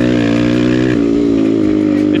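A BBR KLX170RF dirt bike with a new piston, cylinder and jets revs nearby, loud and buzzy, the pitch stepping up partway through and then holding steady.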